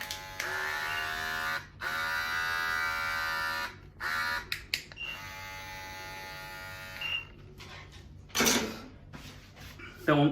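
Cordless rechargeable beard trimmer buzzing in short bursts, a close, high-pitched electric hum that switches on and off several times, with someone speaking briefly between runs.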